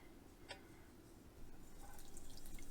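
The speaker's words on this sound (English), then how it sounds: "I pour it through my strainer." Infused oil for homemade lip balm is poured through a strainer, making a faint, soft trickle and a few light drips that grow slightly fuller toward the end.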